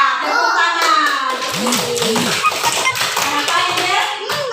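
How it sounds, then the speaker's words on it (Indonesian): Young students in a classroom break into brief clapping at a teacher's cue, mixed with children's voices and chatter around the claps. "Tepuk tangan."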